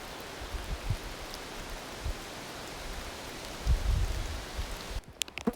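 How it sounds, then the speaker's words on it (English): Soft, steady hiss of light rain falling outdoors, with occasional low rustles and a few sharper ticks near the end. "It's raining"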